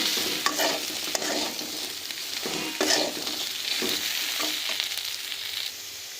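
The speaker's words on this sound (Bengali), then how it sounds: "1 থেকে 2 মিনিট আরও এইভাবে একটু ভাজা করে নেব।" Chickpeas dusted with turmeric fry in a pan, a steady sizzle broken by repeated scraping stirs, close and alone with no talk.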